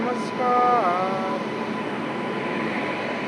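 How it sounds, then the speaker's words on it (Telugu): A passenger train arrives at a station, its steady rumble close by with a brief high squeal of wheels or brakes near the start, and a voice speaking faintly over the noise. "సో మనం ఎక్కాల్సిన ట్రైన్ అయితే వచ్చేసింది అనమాట"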